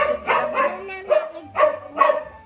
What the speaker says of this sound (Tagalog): Nagkakaingay na po ang aming mga aso.